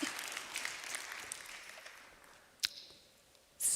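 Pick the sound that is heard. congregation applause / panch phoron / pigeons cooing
congregation applause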